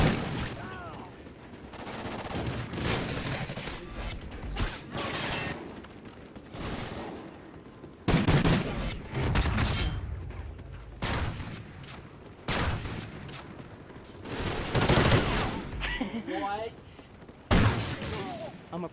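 Video game gunfire crackles in scattered loud bursts and single shots across a busy match, mixed with someone talking throughout.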